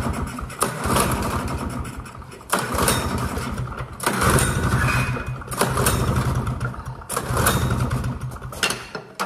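An old vintage snowmobile engine cranks and catches with loud sputtering revs that surge and dip unevenly, then settles into a rough, close, throaty idle.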